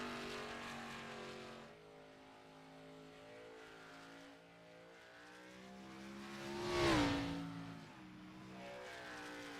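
An ARCA Series race car laps the Bristol dirt track alone during qualifying, a steady whining engine note heard from a distance that swells into a loud close pass with a pitch drop, then fades.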